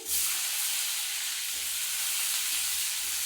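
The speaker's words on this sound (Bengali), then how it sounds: "এই পেঁয়াজটা ভাজা হওয়ার জন্য অপেক্ষা করতে হবে" Small whole onions frying in oil with a little water in a pan, during cooking of a restaurant-style soybean and potato curry: a steady, close, bright sizzling hiss that holds throughout with faint low stirring bumps beneath.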